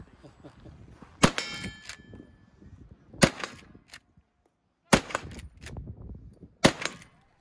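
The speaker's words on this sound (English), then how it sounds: "take down two more knockdowns with the 1887 lever-action shotgun" Four loud, widely spaced shots from an 1887 lever-action shotgun and a Winchester lever-action in .38-55 strike steel knockdown targets at a cowboy action shooting match, each blast ringing with a sharp metallic clang.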